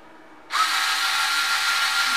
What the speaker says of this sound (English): tighten some screws and test this screwdriver